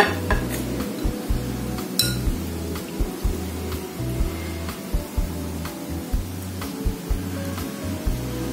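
Green chili sambal is spooned onto cooked tilapia, producing a quick run of clinks and scrapes of a spoon against a plate and pan, repeated in an uneven rhythm at close range with no talking.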